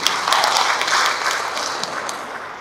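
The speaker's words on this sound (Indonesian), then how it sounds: "Tepuk tangan untuk itu." An audience at an academic oration with Indonesia's Minister of Religious Affairs breaks into applause, a dense wash of many hands clapping that stays loud before tapering slightly at the end.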